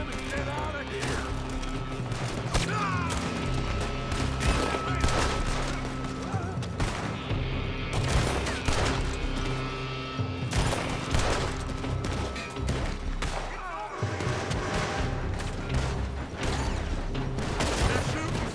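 Rapid gunfire in Red Dead Redemption 2, a running shootout with repeated cracks and bursts, some shots coming from a building, mixed with mechanical clicks and a steady backing music bed.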